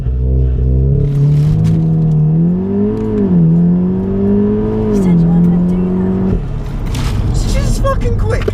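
Volkswagen Golf R launch-control start, traction control off: a loud, steady engine drone rises in pitch through the gears with brief shift dips, then drops off toward the end.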